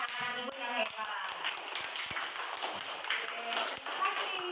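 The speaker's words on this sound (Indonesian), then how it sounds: "mari kita tepuk tangan buat kita semua anak-anak ibu yang hebat" A class of schoolchildren claps hands together in a classroom, a brisk scattered patter of many small hands that runs for several seconds amid faint background chatter.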